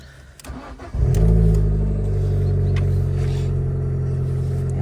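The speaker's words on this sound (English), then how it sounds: "Everyone wants to hear the exhaust, I'm sure." A 2018 Abarth 595 with a Magneti Marelli exhaust fires up about a second in, giving a loud bark and brief rev before settling into a deep, steady burbling idle heard close by, with no talking.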